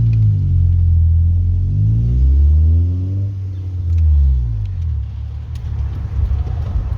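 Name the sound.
car engine revving hard with VTEC engaged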